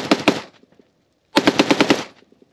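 A rifle fitted with a Rare Breed FRT-15 forced-reset trigger fires two rapid bursts, a short string of about three shots and then a longer run of about seven, loud and close, with silence between the bursts.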